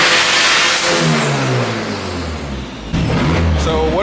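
A Nissan 240SX with a swapped Honda K24 engine revs hard on launch control, loud and close, with the pitch sweeping up and down and another sharp rise near the end, while a voice talks briefly underneath.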